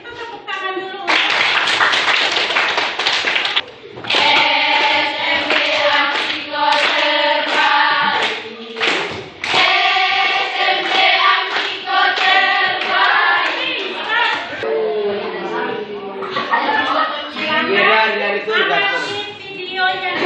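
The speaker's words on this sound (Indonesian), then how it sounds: "Kita tepuk tangan dulu." Classroom applause during an academic coaching session, steady hand clapping running for about twenty seconds beneath children's voices chanting or talking in rhythm, with brief pauses near four and nine seconds.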